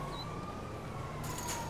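Ambulance siren in the video game GTA 5, a continuous wailing tone over steady engine and traffic rumble, fairly distant and unchanging for a couple of seconds.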